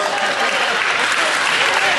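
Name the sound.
audience round of applause at county fair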